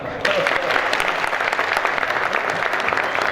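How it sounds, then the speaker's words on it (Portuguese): Audience at a farm talk on palma cactus claps in a dense, sustained burst of applause that starts abruptly and holds loud and steady throughout. "Uma salva de palmas para Palma."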